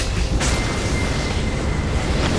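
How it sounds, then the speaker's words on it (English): Game explosions in League of Legends, a broad rumbling burst with a sharp crack near the start and another faint pop near the end, loud and continuous with no talk. "Double explosion!"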